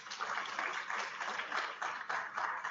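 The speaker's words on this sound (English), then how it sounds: "So I think he deserves a special applaud for that." An audience applauds steadily, a dense patter of many hands clapping throughout, moderately loud and without voices.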